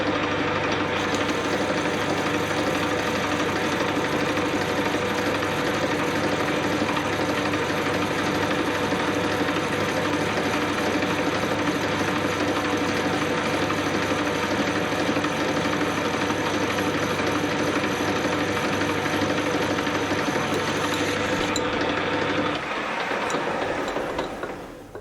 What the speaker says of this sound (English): Let's see if we can make that happen with this worn old lathe.